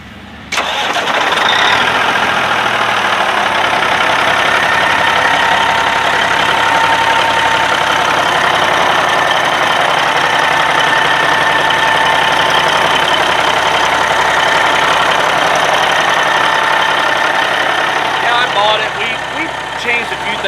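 A 1980 Kenworth extended-hood truck cranks and fires up, then settles into a loud, steady close-range diesel idle with a faint knocking rattle running continuously underneath.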